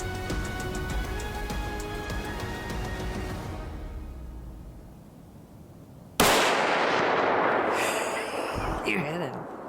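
A single loud rifle shot cracks out late during an opening-day firearm deer hunt in Michigan, ringing sharply after a stretch of quiet talk, with voices reacting afterward.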